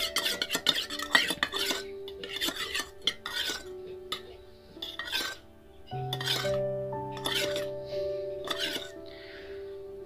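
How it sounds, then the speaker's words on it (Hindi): Homemade skin-whitening remedy being stirred and mixed with added capsule contents, a spoon clinking and scraping against a dish in irregular bursts, with a steady tonal hum in the background and no talking. "ऐड करने के बाद इसको अच्छे से आपको मिक्स करना है"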